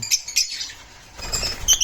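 Scattered high chirps and tweets from small birds, a few bright calls at the start and end with a quieter stretch in between.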